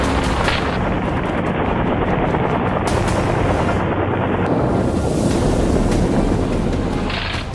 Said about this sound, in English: the helicopter piloted by James roared to life, lifting us into the sky